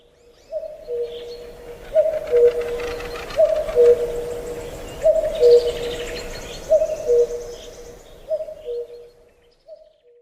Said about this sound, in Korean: 한 해 만에 뻐꾸기의 울음을 처음 들을 적만치 반가운 일은 없다.